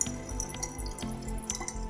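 Tap water pours into a container during a hard-water test in El Paso, making a close, steady splashing with a rhythmic gurgling pulse and no talking.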